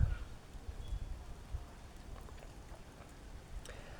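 Light fresh rain before an approaching storm patters softly outdoors, a faint, thin hiss with scattered drops and a few low bumps near the start.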